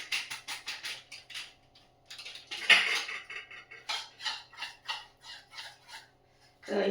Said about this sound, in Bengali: সর্ষেটা আর দইটা একটু ভালো করে এই যে ইয়ে করে নিচ্ছি, নেড়ে নিচ্ছি।